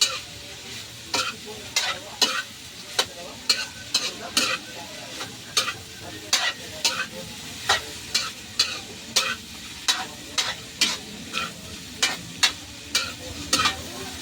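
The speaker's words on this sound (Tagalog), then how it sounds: "Yung ano, idol, haluin muna natin." Pork sisig with oyster sauce, chili and onion being stirred in a sizzling pan, a spatula scraping and knocking in a steady rhythm of sharp clacks over continuous frying hiss, close and alone.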